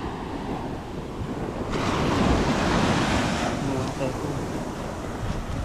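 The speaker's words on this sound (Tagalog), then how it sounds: "So silipin namin yung dagat mga tepo, tumataas na yung alon." Ocean waves rising as a typhoon approaches: a loud, continuous rush of surf and wind that swells into a heavier crashing wash midway, then settles into a rough, steady roar.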